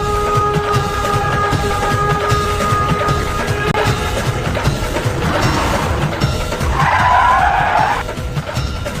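A vehicle brakes to a stop with a long, loud, continuous screech and rumble, a high squealing tone rising toward the end before it cuts off. No one speaks.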